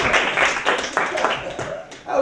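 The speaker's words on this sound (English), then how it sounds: "Round of applause for Becca, please." Scattered clapping from a small comedy-show audience at a New York fringe festival, loud and close, mixed with people talking over it.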